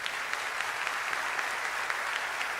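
A church congregation at a regular assembly in Curitiba applauds steadily, with many hands clapping in a dense, even roar that holds for several seconds with no talk over it.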